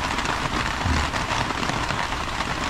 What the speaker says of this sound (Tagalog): Ulan na nga.